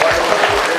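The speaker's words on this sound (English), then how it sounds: "Let's give a good round of applause." A classroom of kids applauds, a brief dense burst of clapping, close and steady, with no pause.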